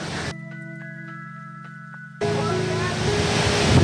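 A waterfall near Rakhu village in Nepal roars as a broad, continuous rush of falling water that swells in abruptly and holds loud and close after a quieter opening.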